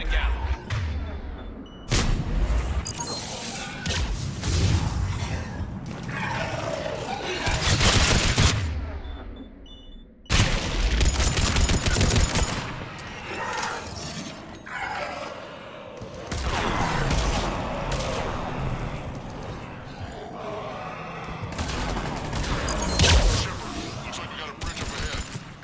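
Repeated bursts of gunfire in a Mass Effect 3 shootout, loud and dense volleys separated by brief lulls, with voices talking between and over the shots.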